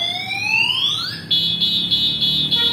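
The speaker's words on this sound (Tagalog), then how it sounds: "Once na ginalaw po natin yung unit, is mag-a-alarm na po siya." Anti-theft alarm on an ERV unit triggered by moving it: a rising electronic siren sweep followed by a loud, steady high-pitched pulsing beep, close and alone.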